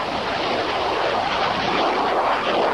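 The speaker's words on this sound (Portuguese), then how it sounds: "O F-5 é um dos aviões de caça mais versáteis do Brasil." A Northrop F-5 fighter jet flying, heard as a steady, loud broadband engine roar holding constant throughout with no talk over it.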